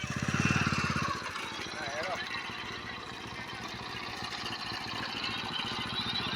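A motorcycle engine idling nearby, a steady low putter with a brief louder rev at the start, while people talk over it.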